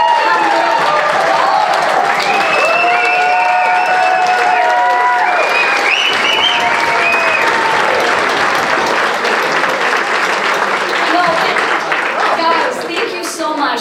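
Loud sustained applause and cheering from a gala fundraiser audience, with whistles and whoops rising over dense clapping that stays strong throughout and eases slightly at the end.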